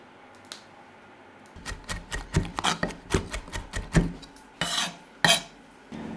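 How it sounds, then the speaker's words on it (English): Fresh rosemary leaves being stripped and chopped with a knife on a board for a focaccia topping: a quiet stretch, then a rapid run of crisp, close chopping taps with a couple of longer scraping strokes. "that's just some fresh rosemary that I'm going to pick the leaves off and then chop"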